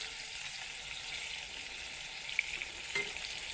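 Dried fish fritters (shutki bora) frying in hot oil, giving a constant bright bubbling sizzle with a faint clink partway through, heard alone without speech.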